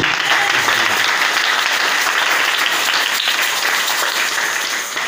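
A church congregation applauds at a worship service, a loud sustained wash of many hands clapping that carries on evenly and tapers slightly at the end.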